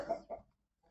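Two quick, soft clucks from a Belgian Shamo chicken, close and quiet, followed by near silence.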